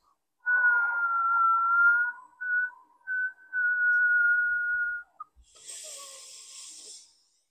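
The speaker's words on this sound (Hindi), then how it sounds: "अपने जीभ को गोल कीजिए, अपने मुंह को सीटी बजाते हुए श्वास को बाहर निकालें" Whistling breath pushed out through a rolled tongue and pursed lips, a steady near tone that runs about two seconds, breaks into short bursts, resumes for another stretch, then ends in a breathy hiss.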